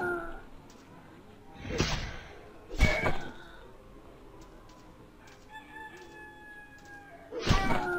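Roosters crow in the medieval strategy game Decision: Medieval, with three loud crows spread across the clip over a steady game ambience and a faint tonal chime in between.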